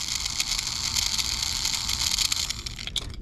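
A Tomy Plarail Thomas toy train with a rattly motor runs close by, giving a continuous buzzing, rattling whir.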